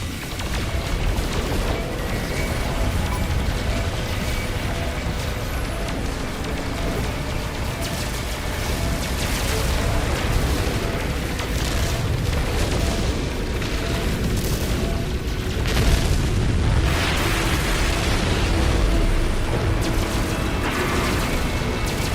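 Continuous low booms and crackling blasts of a space battle in No Man's Sky, dense and loud throughout with a rumbling, rain-like wash of debris and no clear gaps.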